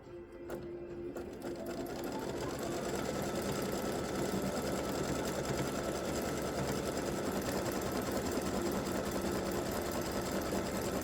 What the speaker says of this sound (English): I'm going to stitch the satin stitching on the sides of the leggings